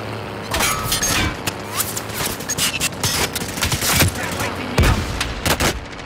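Video game combat with incoming rounds and rapid gunfire, heard as dense, loud bursts of shots and sharp cracking impacts that continue without pause, with a few faint voice fragments underneath.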